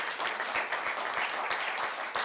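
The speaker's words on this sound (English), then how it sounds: "One more round of applause for all these great guys" Audience applause for high school performers, a dense wash of many hands clapping at moderate distance, steady and unbroken for the whole moment with no voices over it.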